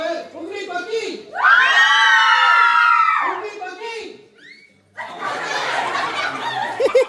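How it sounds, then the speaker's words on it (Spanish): A crowd of children shouts and cheers loudly in a long, sustained burst at a community event, with chatter and laughter before and after, then a second wave of noisy crowd sound. "Regálenle un grito a los niños que quieren que vuelvan aquí con una actividad parecida a esta."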